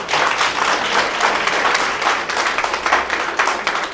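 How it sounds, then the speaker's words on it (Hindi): An audience at a business success-story gathering gives enthusiastic, continuous applause, dense clapping from many hands close by without speech on top. "जोरदार तालियां बजा दीजिएगा"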